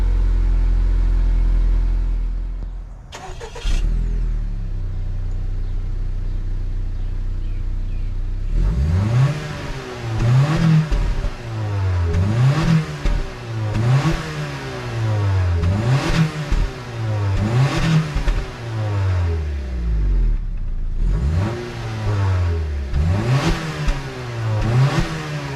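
A 2018-2021 Honda Accord 2.0t fitted with a PRL 3-inch front pipe cold-starts, settling into a steady idle before a series of rhythmic revs rise and fall repeatedly, loud and close.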